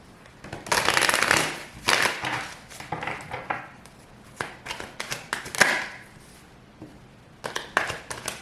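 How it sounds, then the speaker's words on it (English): Tarot cards are shuffled close by in a quick series of riffling, slapping bursts, with several soft taps and shuffles trailing off and a few more at the end. "Last shuffle."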